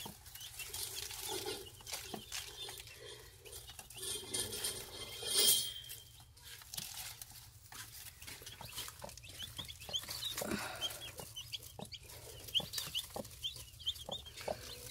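A mother hen with ten newly hatched Araucana chicks makes soft clucks amid faint chick peeps and a brief burst of wing flapping, all fairly close over a steady low background hum.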